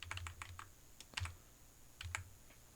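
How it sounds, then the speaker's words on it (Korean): Keys pressed on a computer keyboard while selecting a constructor in a program and pressing Enter, heard as three close clusters of sharp taps, alone and fairly quiet. "생성자를 선택해 엔터를 눌러보면"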